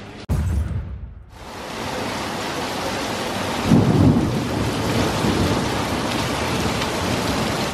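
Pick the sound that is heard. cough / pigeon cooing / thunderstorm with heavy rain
thunderstorm with heavy rain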